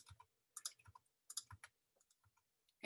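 Computer mouse clicks and keyboard key presses sound in short, quiet, sparse bursts, close and dry with near silence between them, ending in a louder thump.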